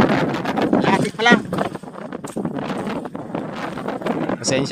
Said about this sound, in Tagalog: Malakas kasi yung hangin dito.